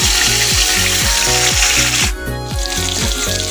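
Steady loud sizzling of pointed gourd frying in hot oil with black cumin and green chillies, with a repeated rhythmic clatter of stirring underneath throughout.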